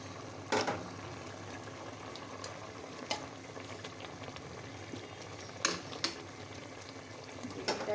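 An aubergine curry with lentil nuggets and fish simmers in a covered pot, a soft continuous bubbling with a few sharper clinks and knocks, fairly quiet and without speech.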